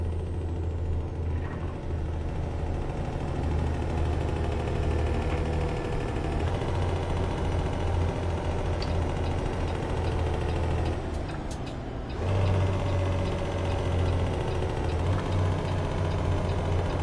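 A heavy truck engine idles steadily in American Truck Simulator, a deep continuous low rumble throughout, with a brief dip and a hiss near the end before the drone resumes.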